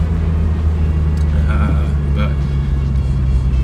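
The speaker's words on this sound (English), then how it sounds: "It's driving okay. And this is with the brakes going, so I'm trying not to go too fast here." A 1991 Toyota MR2 Turbo SW20 drives slowly with dragging brakes, making a steady low engine and road rumble. Someone talks briefly over it.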